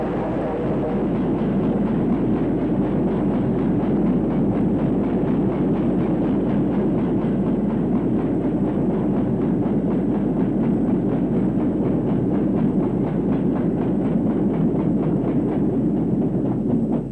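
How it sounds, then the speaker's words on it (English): Locomotive 92243 rumbles by at a steady, loud level on an up cement train, with a continuous rolling roar and faint rhythmic clatter from the wagons throughout. "92243 on an up cement train."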